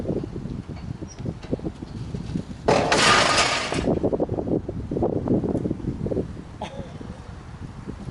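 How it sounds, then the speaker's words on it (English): A wooden support snaps with a loud crack and the offroad wrecker's lifted Jeep load drops, a sharp broadband burst of about a second in the middle of steady outdoor wind and rustling noise. "So my wood broke and it fell."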